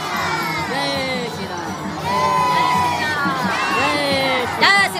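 A large, packed crowd of devotees waits in long queues at Hanuman Garhi temple, a continuous din of overlapping voices, calls and shouts, fairly close and loud throughout.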